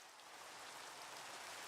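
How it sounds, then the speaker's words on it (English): Steady rainfall in Minecraft makes a soft, even hiss of drops, faint and continuous, with no voices. "listen to the raindrops"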